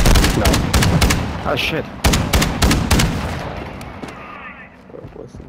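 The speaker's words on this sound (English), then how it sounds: "You are taking effective fire." Rapid bursts of gunfire crack repeatedly from a military shooter game, a dense string of close, loud shots over the first few seconds that thins and fades toward the end, with a player speaking briefly between shots.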